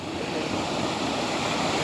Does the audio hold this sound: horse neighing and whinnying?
no